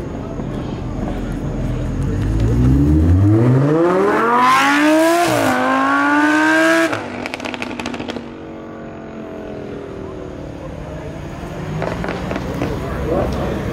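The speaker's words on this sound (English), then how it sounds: "That exhaust is crazy." A Lamborghini Huracán's exhaust rises in a loud, climbing rev, peaks with crackles, then drops back to a lower idle before blipping again, close by, while people talk over it.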